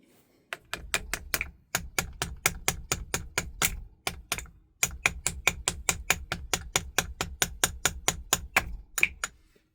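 Sharp, evenly spaced taps from a screwdriver handle strike in quick succession, pausing briefly twice before continuing the steady tapping rhythm.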